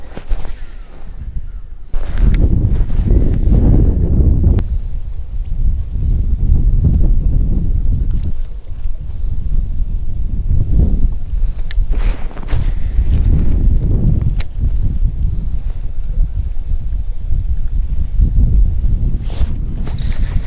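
Gusty wind buffets the microphone outdoors on a boat while bass fishing, a loud low rumble in long surges with brief lulls, no talking.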